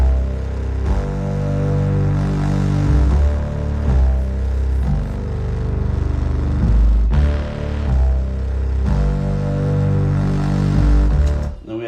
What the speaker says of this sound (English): we also added this with it, this synth bass.